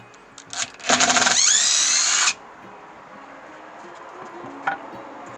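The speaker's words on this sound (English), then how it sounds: "the impact driver functions like a drill" A DeWalt DCF887 impact driver whirs loudly for over a second with a rising, ratcheting buzz while driving out fasteners, then stops; faint clicks and handling noises follow.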